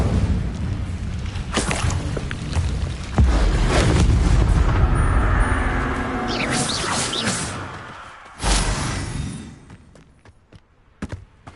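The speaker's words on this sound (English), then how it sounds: "Incendio!" The Incendio fire spell is cast in a video game, giving a loud booming whoosh of flame with sustained roaring rumble, a second burst partway through, then fading to scattered crackles.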